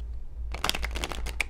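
Cards riffled and shuffled in a quick burst of crisp, fluttering snaps, close by, after a brief quiet moment.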